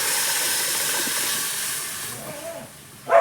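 Dal poured into a hot tempering, a loud steady steam hiss up close that gradually fades, followed by a brief clatter at the end.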